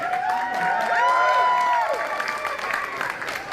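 An audience at a live panel at San Diego Comic-Con 2019 breaks into sustained clapping mixed with cheers and whistles, a dense crowd roar that holds steady, then thins slightly toward the end.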